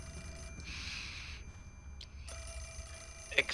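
Telephone ringing in the horror video game Project Zero IV: Mask of the Lunar Eclipse, a faint electronic ring in two short bursts with quiet ambient hum between them.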